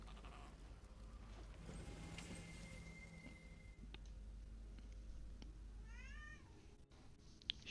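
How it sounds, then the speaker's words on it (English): A cat makes an angry, drawn-out meow, quiet and close, with a rising and falling wail near the end over faint game background sounds. "he's just making the angry meow sound"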